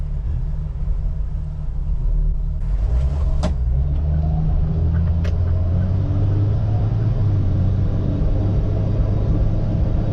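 A Jeep Wrangler engine rumbles steadily from inside the vehicle while driving, misfiring, with an uneven, rough low-frequency drone and a couple of faint clicks.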